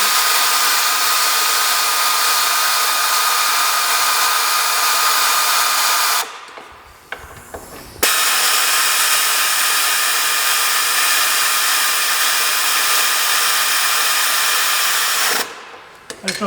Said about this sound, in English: I use like a little air ratchet to get them started up here to roll them up.